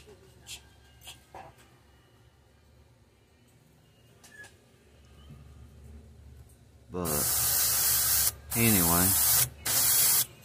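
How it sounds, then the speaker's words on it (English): An airbrush sprays pink paint onto a fishing lure for a ghost rainbow trout pattern, with three loud hissing bursts near the mic, each lasting about a second, after a quiet stretch of faint handling noise. "get this airbrush shooting pink, and then we're gonna do those gill plates real quick"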